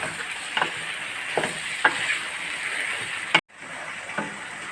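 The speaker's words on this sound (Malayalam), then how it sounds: "എന്നിട്ട് നന്നായി നമുക്ക് ഇളക്കി യോജിപ്പിച്ച് വയ്ക്കാം." Meat and salt being stirred in a hot pan while cooking chicken kappa biryani, a steady sizzle broken by several distinct scraping strokes of the spoon, with a brief sharp clatter partway through.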